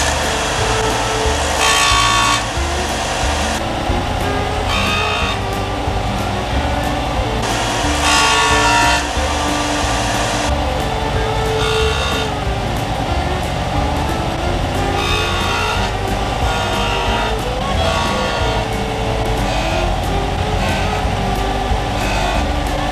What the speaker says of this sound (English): I'm over at the bench sander about to make some sparks fly.